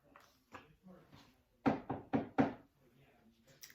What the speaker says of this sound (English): Toad knocked at the door.